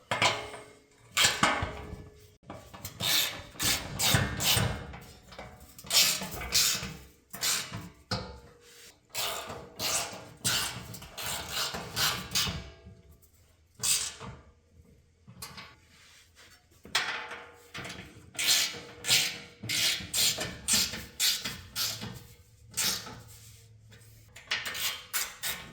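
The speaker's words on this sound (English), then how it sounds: "Then I'm going to take a 15 millimeter socket and tighten those up." Metal clinks and ratcheting clatter from tightening bumper bolts with a 15 mm socket on a 2019-2023 Ford Ranger, rapid irregular clicks in bursts with brief pauses, close and fairly quiet, no voices.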